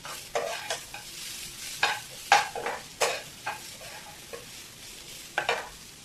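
Onion, ginger, garlic, green chillies and coriander fry in a pan for a mutton masala, a soft sizzle under repeated scraping stirs of a spoon against metal, close and irregular.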